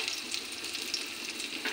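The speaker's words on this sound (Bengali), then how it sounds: "পেঁয়াজ আর গোটা জিরা তেজপাতাটা ভালো করে ভাজা করে নিয়ে কাঁচা গন্ধটা চলে যায়।" Chopped onion, whole cumin and a bay leaf sizzle steadily in hot mustard oil in a pan, a short, close, continuous crackling fry with no talking.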